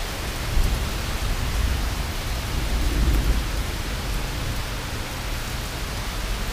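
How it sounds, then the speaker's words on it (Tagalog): Heavy rain falls in a dense, steady hiss, while a low thunder-like rumble swells briefly near the start and again in the middle. "Ulan pa rin."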